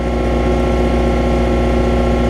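A Hayter LT324 triple gang ride-on mower, about 13 years old, idling after a cold start, a steady close engine drone with an even throbbing pulse and no break.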